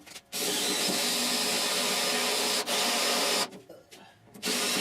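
A power drill whines in long steady bursts drilling metal on a rusted 1969 Chevrolet C10 core support, stopping briefly between runs, close and fairly loud with no talking.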